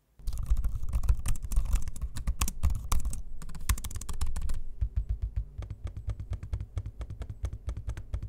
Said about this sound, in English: I'm gonna give you an audio sample of both the keyboard and trackpad